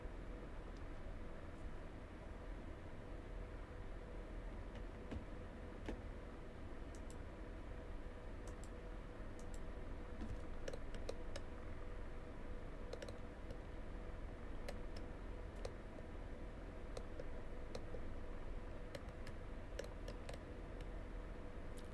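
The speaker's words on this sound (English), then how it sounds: "Press the spacebar while you do this" A computer keyboard's spacebar is pressed while flying an AH-64D Apache in DCS World, giving faint, sparse clicks scattered over a steady hiss.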